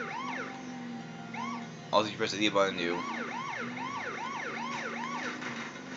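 Police car siren in The Simpsons Hit and Run, a repeating wailing whoop sweeping up and down over game engine noise, with a brief burst of clatter midway and a voice talking over it.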